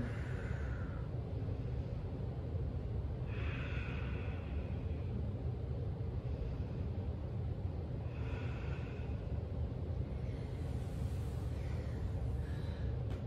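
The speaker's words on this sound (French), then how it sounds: "Je prends des grandes respirations." Slow, deep breaths during a Pilates stretch, kneeling with hips back to heels and arms reaching forward, soft airy inhales and exhales recurring every few seconds over a low steady rumble, faint and close.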